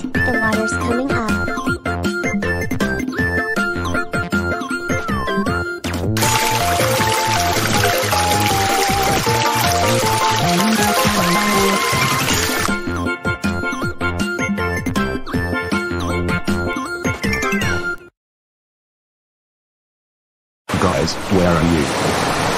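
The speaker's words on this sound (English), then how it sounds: "What's that sound? Oh no. Hang on tight. The water's coming up." Cartoon water rushes and gushes in as a boat floods, a loud hissing surge running under busy music and effects, cutting to brief silence before the noise returns.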